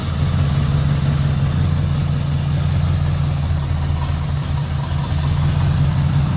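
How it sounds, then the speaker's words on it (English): A 1989 Pontiac Trans Am GTA V8 with a slight exhaust leak idles close by, a loud, steady low rumble that holds even and continuous throughout, with no talking over it. "Engine's quiet, I hear a little exhaust leak"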